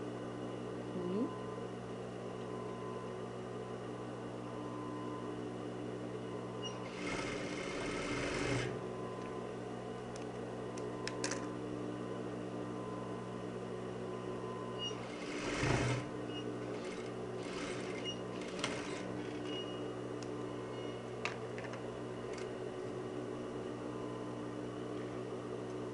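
A sewing machine joins two parts of a blouse with a heart-detail neckline: a low, steady mechanical hum runs throughout, with two brief louder bursts of stitching, fairly faint overall.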